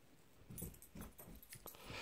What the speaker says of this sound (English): That's just the cat playing upstairs and the dog running around